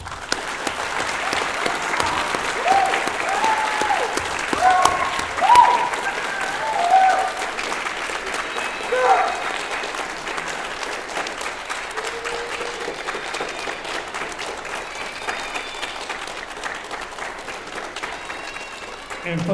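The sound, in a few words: audience applause at graduation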